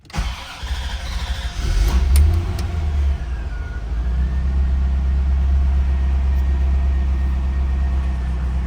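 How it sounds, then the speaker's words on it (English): A fuel-injected 1989 Corvette cranks briefly, then its engine catches and settles into a loud, steady idle rumble up close, with no one talking. "Now this is a fuel-injected car, so when I start it, I'm not going to put my foot on the gas."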